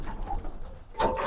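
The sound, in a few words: pigeon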